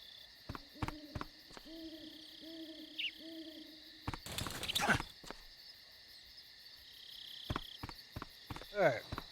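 An owl gives a short series of three or four soft hoots at night, close but quiet against a still background, with scattered thumps and footsteps and a burst of rustling noise around them.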